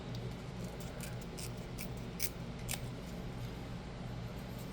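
Scrap paper being torn for craft embellishments gives several quick crisp ripping bursts near the microphone over a low steady hum, no voices.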